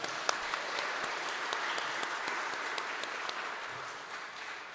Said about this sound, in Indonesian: mari kita beri tepuk tangan kepada tim musik kita